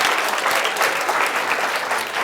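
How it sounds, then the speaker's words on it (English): Steady, full applause from an audience at a talk by Reverend Lawson on women's struggles in the civil rights movement, a dense wash of clapping holding even throughout. "Let's give Reverend Lawson another round of applause."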